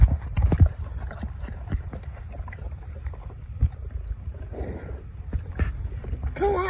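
Hooves of horses clip-clop steadily on the ground outdoors, close by, with wind noise and a brief voice near the end.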